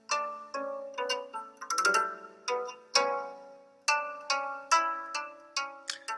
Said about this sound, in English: That is the sound of a lyre.